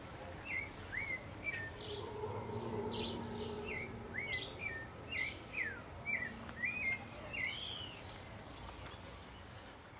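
Birds in a tropical park near Panama City call repeatedly, short rising and falling whistles and chirps repeating at a moderate distance over a soft, steady insect and ambient hum.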